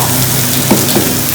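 Masala paste hits a hot pan for mushroom masala, a loud dense sizzle and crackle close up, with a couple of brief soft bumps partway through.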